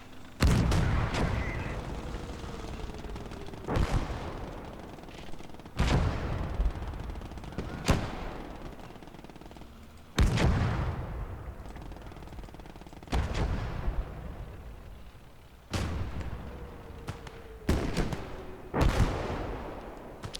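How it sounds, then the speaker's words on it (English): A recoilless rifle fires again and again on a Call to Arms: Gates of Hell battlefield, loud booming blasts every couple of seconds, each trailing into a rumbling decay, with scattered gunfire between them. "he's got a recoilless rifle"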